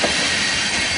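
An alien train in a video game rushes past with a loud, steady roar and hiss of rolling wheels, dense and continuous throughout.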